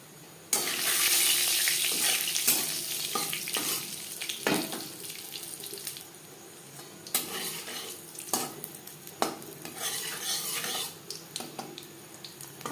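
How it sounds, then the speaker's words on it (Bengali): Panch phoron seeds sizzle in hot oil in a wok, a burst of crackling at first, then fading into intermittent sizzles, clinks and stirring scrapes. "ফোড়নে দিয়ে দিলাম"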